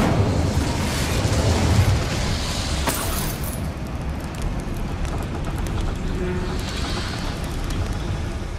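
Incendio fire spell being cast in Hogwarts Legacy, a dense roaring burst of flame and crackling with a whooshing flare, steady and loud with no pause.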